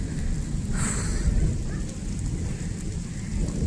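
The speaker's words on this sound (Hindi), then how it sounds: "इतनी भयंकर बारिश हो रही" Heavy rain pours steadily over farm fields, a dense, constant hiss with deep thunder rumbling underneath and a brief brighter crack near the start.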